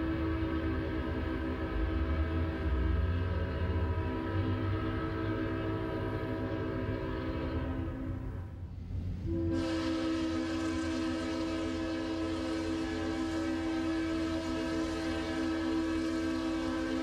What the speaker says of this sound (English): Corman train comes into Russellville, Kentucky, and its flanges squeal as the train rounds a sharp curve.